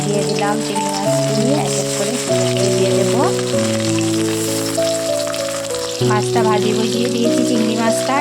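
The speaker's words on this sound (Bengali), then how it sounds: "এবার চিংড়ি মাছটা ভাজি হয়ে যাক" Prawns frying in hot oil in a wok crackle and sizzle continuously beneath loud, sustained background music, with the spattering barely rising above the tune.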